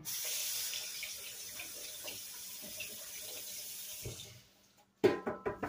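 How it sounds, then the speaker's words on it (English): A running kitchen tap streams steadily as hands are rinsed under it, a close continuous hiss that cuts off after about four seconds, followed by a few sharp knocks and clatters. "Let me rinse my hands off right quick, y'all."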